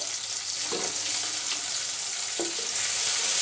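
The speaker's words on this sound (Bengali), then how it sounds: "তেলের মধ্যে যদি শুটকিটা ভেজে নেওয়া হয় তাহলে আলাদা একটা টেস্ট হয়" Loitta dried fish fries in hot oil with a loud, dense, continuous sizzle, broken by a couple of brief stirring knocks from a utensil in the pan, with no voices.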